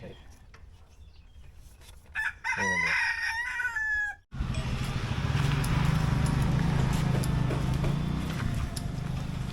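A rooster crows loudly and briefly, then a steady wash of chickens and hens clucking and farmyard noise continues for several seconds.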